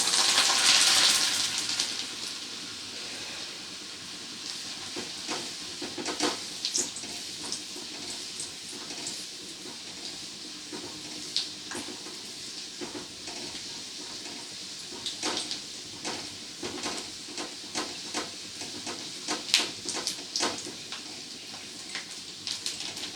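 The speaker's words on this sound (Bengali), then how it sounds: "এরপরে এই তেলের মধ্যে দিয়ে দেবো রসুনগুলো" Garlic cloves frying in hot oil for a jackfruit seed mash, a continuous sizzle and crackle with scattered sharp pops and spits, steady and close throughout.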